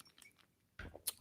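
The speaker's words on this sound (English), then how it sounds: "we just keep getting mouthfuls of ice, and it must be really obnoxious when you're listening to this to just hear crunching." Ice from a mint julep cocktail being crunched between the teeth, a quiet lull followed by a sudden burst of close, crisp chewing and cracking that ends in a sharp snap.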